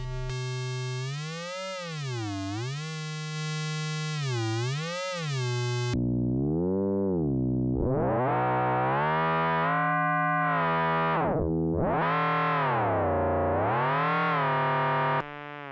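A Plaits synthesizer module cycles through its different synthesis algorithms: a loud, continuous run of pitched electronic tones with swooping, wobbling pitch sweeps, switching abruptly to a new, brighter timbre midway and carrying on alone.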